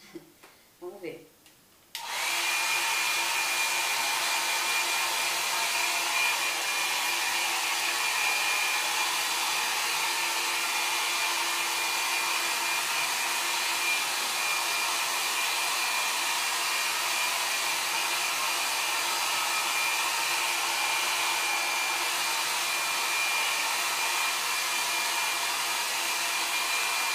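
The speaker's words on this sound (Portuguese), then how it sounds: "Daí agora eu vou secar no secador, depois eu vou passar uma chapinha." A handheld hair dryer drying freshly cut and dyed hair at home roars on after a few handling clicks, then runs as a loud, steady, close blowing whoosh that continues without break.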